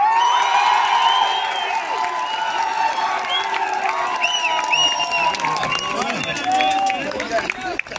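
Protest crowd clapping and cheering harder, a loud sustained mass of applause with whistles and shouts, and voices mixed in.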